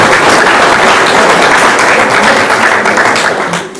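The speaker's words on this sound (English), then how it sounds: "Nice round of applause for them" A high school fall sports banquet audience gives a round of applause, loud and close with dense clapping from many people, steady before fading slightly at the very end.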